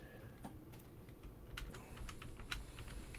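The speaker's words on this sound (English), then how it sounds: "while Richard's typing" Keys clatter on a computer keyboard in irregular bursts of fast taps at moderate loudness, set against a steady low room hum, with no talking.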